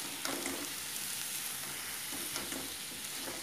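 Paneer and capsicum bhurji sizzles in a pan while a utensil stirs it, with steady frying hiss and a few soft scrapes, close and continuous with no talking.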